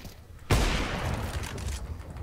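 A sudden burst of dense gunfire in Counter-Strike 2 erupts after a short quiet moment, continuing as sustained, loud rapid shooting with a rumbling, noisy texture.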